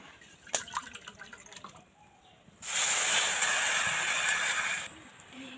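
Water poured onto sugar in a bowl for syrup: a few soft drips and clinks, then a steady, loud rushing pour lasting about two seconds before stopping abruptly.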